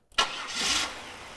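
A Buick car engine cranks and catches in a short burst, turning over briefly before settling into a steady idle, close by with no talking.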